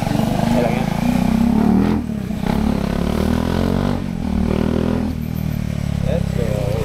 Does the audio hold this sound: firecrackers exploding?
no